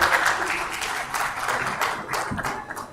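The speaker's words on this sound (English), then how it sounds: "A big round of applause for all our panelists and moderator." Conference attendees at a spectrum policy panel give a round of applause for the panelists and moderator, a steady, moderately loud patter of many hands with no talking.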